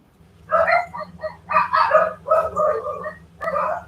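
Dogs barking at night around 9:15 on a rural homestead, several short bursts of barks in rhythmic groups with a low steady hum beneath, fairly close and clear.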